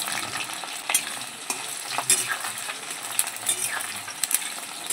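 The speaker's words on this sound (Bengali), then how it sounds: "হালকা করে তেলে একটু ভেজে নেব।" Chopped onion, garlic, ginger and whole cumin sizzle in hot oil in a home kitchen, with a continuous crackling fry and occasional utensil scrapes and taps as the pan is stirred.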